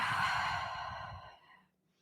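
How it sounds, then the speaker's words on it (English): Steady, audible Ujjayi breath during a power vinyasa yoga class: one long, close, breathy exhalation that fades out after about a second and a half, alone with no talk. "steady Ujjayi breath."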